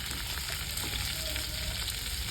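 Potato and papaya pieces fry together in hot oil in a pan, giving a steady, close, even sizzle with a faint crackle throughout and no voices.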